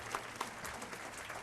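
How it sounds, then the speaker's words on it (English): Audience applause at a 2009 county mental health luncheon, a brief steady patter of many hands clapping at moderate distance, fairly faint throughout. "So I think we can actually give Nancy and the county a little applause for their work here"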